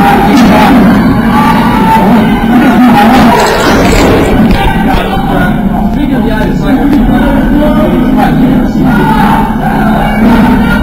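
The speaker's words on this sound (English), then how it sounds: "the crowd is giving them a little cheering" A wrestling crowd at an independent anniversary show cheers and yells, a dense wall of voices that stays loud throughout with occasional shouts rising above it.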